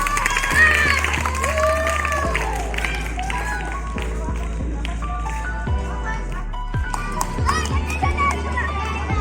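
Children cheer on participants at a village race at an Ayurvedic college event, their excited shouts and clapping forming a loud, continuous crowd noise under an amplified announcer's voice, with whistle-like tones throughout.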